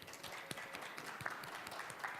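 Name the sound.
audience applause for panelists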